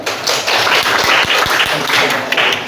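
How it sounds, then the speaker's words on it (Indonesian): Classroom applause for a student in a grade VIII social studies lesson at a junior high school, a short burst of loud clapping from many hands with some voices mixed in. "Tepuk tangan untuk Nadra"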